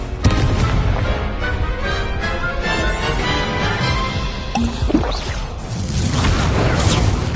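Explosive fire spell Confringo blasting in Hogwarts Legacy on PS5, loud rumbling booms and whooshing bursts filling the space continuously, with a fresh blast hitting near the end.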